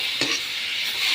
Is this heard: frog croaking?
no